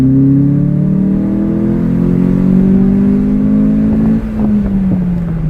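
A Ford Focus with its exhaust cutout valve closed accelerates from 30 to 60 in second gear with windows down, pitch pulling steadily upward, a smooth, muted drone, loud and close, dropping briefly near the end as it shifts.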